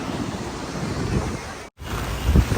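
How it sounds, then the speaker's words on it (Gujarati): Wind-driven monsoon rain sweeping a Mumbai seafront makes a steady, roaring rush of noise with deep gusty buffeting against the microphone, broken by one very brief dropout. "જે પવન સાથે વરસાદ આવી રહ્યો છે"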